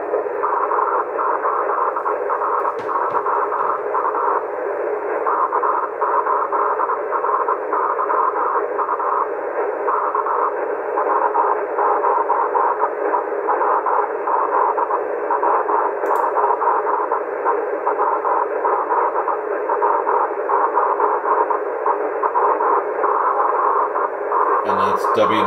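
A 2-meter amateur radio signal reflected off the aurora comes through a receiver as continuous, band-limited, buzzy audio with a distorted voice transmission, steady and loud for the whole stretch.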